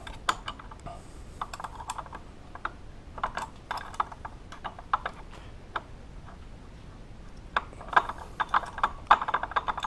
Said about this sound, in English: I'm just going to use the vise just to nip this up